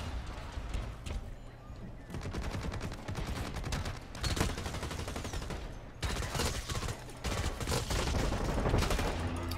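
Dense, sustained gunfire in the shooter game Blacklight: Retribution, with rapid automatic bursts and overlapping shots that stay loud and busy throughout, with heavier clusters of fire in places.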